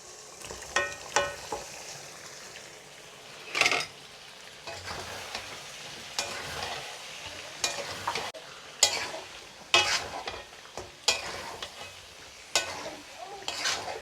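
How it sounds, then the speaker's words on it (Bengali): Chicken meat goes into a hot pan with potatoes and is stirred, giving a soft sizzle under repeated sharp scrapes and clanks of the spatula against the pan, close and uneven, with no talking. "এখন আমি এখানে দিয়ে দেবো মাংসটা।"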